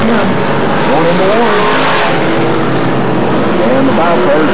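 Race cars roar around a speedway, engines rising and falling in pitch as they pass through a corner, loud and continuous with tires sliding, under an announcer's commentary.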